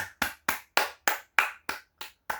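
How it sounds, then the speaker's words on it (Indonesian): A small group of elementary students claps for a classmate in a classroom, about nine sharp, evenly spaced claps that ring close and clear and then stop, with no voices over them. "Tepuk tangan dong buat teman kita yang di depan ini"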